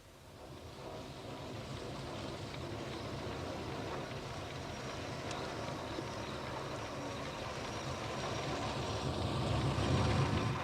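A taxi engine runs continuously, a steady mid-level rumble that swells slightly toward the end, heard without any voices.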